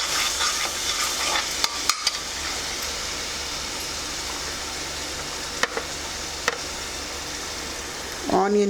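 Fennel seeds sizzle and fry in melted butter in a pan, a steady, fairly quiet crackle with a few sharp clicks and a louder stir near the end.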